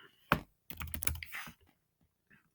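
Typing on a computer keyboard while entering a search into a database page: a brief burst of close, quick key clicks, then near silence with one faint tap.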